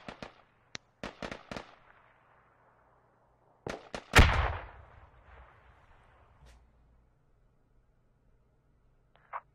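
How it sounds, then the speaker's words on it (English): Grenades bursting in the Squad military shooter game: a few sharp blasts early on, then one big loud explosion with a rumbling tail, and a small pop at the end. "Some good grenades coming in by No."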